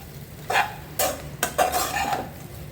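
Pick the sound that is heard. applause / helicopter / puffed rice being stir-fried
puffed rice being stir-fried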